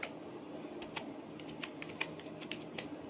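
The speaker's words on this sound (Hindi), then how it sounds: "यहाँ पे हम टाइप कर देते हैं पीस ऑफ माइंड" Computer keyboard typing in a PowerPoint lesson: a dozen or so irregular, close key clicks over quiet room tone, with no talking.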